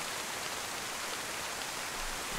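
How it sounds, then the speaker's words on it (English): Steady rain hisses across the whole stretch in the DayZ video game, a dense, even wash of broadband noise with no breaks, moderately loud and alone without any voices. "Pretty dark and rainy in this server"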